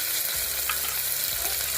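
Onion and tomato fry in a pan for a Maharashtrian drumstick amti, producing a continuous, near, dense sizzle with light stirring.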